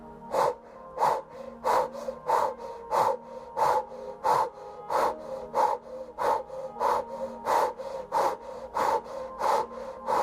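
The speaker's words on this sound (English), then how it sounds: "Big, deep inhale in through the nose and exhale through the mouth." Deep breaths repeat in a steady rhythm, each one inhaled through the nose and exhaled through the mouth, about fourteen close, rough, loud breaths during a guided breathwork session.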